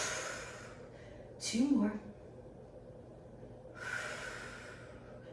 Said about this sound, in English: inhaling through your nose for 5 counts and out through your mouth like you're exhaling through a straw